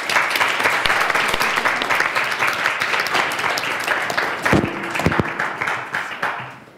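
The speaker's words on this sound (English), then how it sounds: "Let's give a round of applause to the panelists." An audience at a body language workshop and panel discussion in Washington, DC applauds the panelists, with loud, sustained clapping that fills the room and then tapers slightly before the end.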